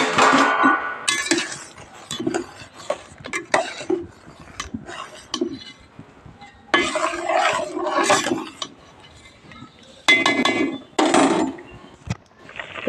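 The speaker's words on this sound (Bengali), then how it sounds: "ওই যে দেখুন বন্ধুরা ঢাকা খুলে দেখেন" A lid lifted off a pot of boiling milk for kheer payesh gives sharp metallic clinks and clatter, with bursts of bubbling and handling noise between quieter pauses, up close.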